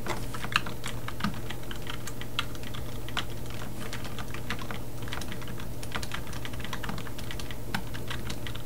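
Rapid, irregular keystrokes on a computer keyboard while editing a hit-definition file for a Mugen fighting-game character, steady clicking close by over low background hum with no talk.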